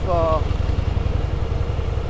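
A motorcycle engine idles steadily to warm up after sitting unridden, its low, even pulsing rumble running through the whole stretch, with a brief tonal whine near the start.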